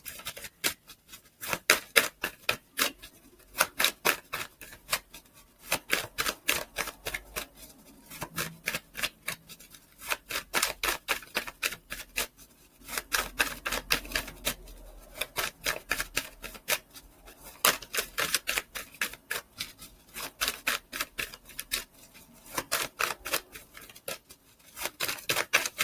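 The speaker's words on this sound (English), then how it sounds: "just shuffling the cards" Tarot cards are shuffled over and over in rapid crisp riffles and taps, coming in bursts with short pauses between, close and fairly quiet.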